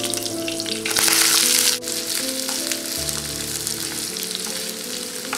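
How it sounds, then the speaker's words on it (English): Chopped onion and curry leaves with green chili, cinnamon and cloves frying in a pan of oil, a steady close sizzle with a louder hiss burst early on, no talking. "And cook it until onions become brown color."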